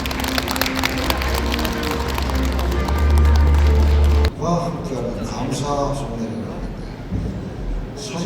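An audience at a year-end party for a disability welfare center applauds, a dense, loud wash of clapping from a crowd filling the room for about four seconds, then fading into murmuring voices and scattered claps.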